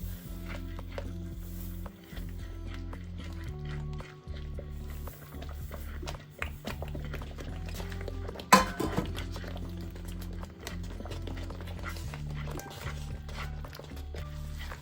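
Roasted semolina (rava) being stirred into boiling water in a pot for upma: faint repeated scrapes and clinks of a spoon against the pot over a low steady hum, with one sharper knock midway.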